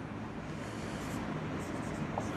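Chalk or marker writing on a board in a classroom, a steady close scratching that runs continuously without pauses or talk.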